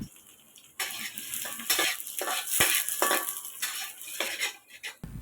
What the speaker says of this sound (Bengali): ঘিয়ের মধ্যে 1 চা চামচ রসুন কুচি দিয়ে 1 মিনিট ভেজে নিব।